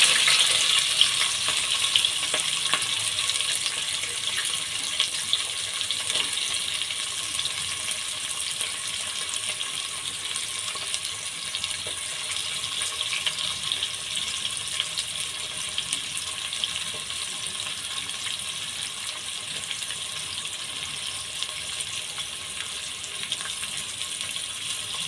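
Onions fry in a pan for vegetable brinji rice, giving a steady sizzling hiss that runs unbroken and fairly loud from start to finish.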